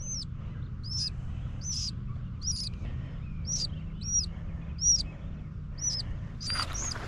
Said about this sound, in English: Oh my god, look at this baby bird.